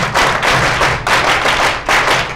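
Spirited audience applause at a business seminar, arriving in loud rhythmic bursts of clapping, three or four strong waves close to the microphone with no talk over them.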